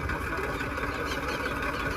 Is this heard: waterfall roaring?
no